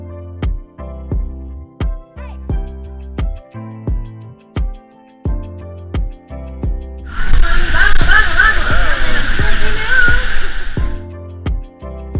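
Water rushing and splashing at the Damajagua waterfalls in the Dominican Republic bursts in loudly for about four seconds midway, after a stretch of rhythmic, thumping music that continues underneath.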